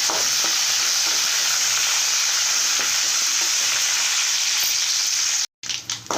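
Dried red chillies and curry leaves fry in oil with a loud, dense, continuous sizzle close by for a tomato pickle, cutting out abruptly for a moment before resuming.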